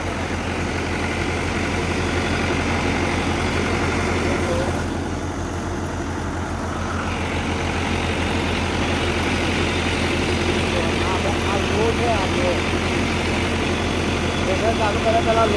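A farm tractor idles steadily with a low, even engine drone before a thresher is started, with talk running over it for most of the stretch.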